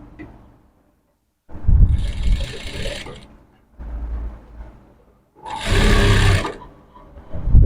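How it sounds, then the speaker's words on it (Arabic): A sewing machine stitches along the edge of dress fabric in two long whirring runs separated by quiet pauses, a close, loud motor drone with rapid needle clatter. "همشي خياطة كده على الطرف لحد الناحية التانية"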